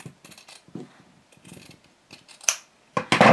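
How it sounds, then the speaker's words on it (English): Scissors cutting away excess fabric bulk from a placemat binding seam, a series of crisp snipping and rustling sounds in irregular bursts, getting louder and sharper toward the end. "just cut with my scissors. And I'm going to cut that excess bulk off"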